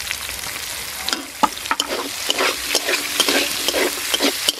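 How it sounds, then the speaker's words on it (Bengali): Chopped onion and green chilli fry with garlic in a pan, crackling and sizzling as a spatula scrapes and stirs in irregular strokes, close and fairly loud. "ভালো করে এবার পেঁয়াজটা আমি ভেজে নেব"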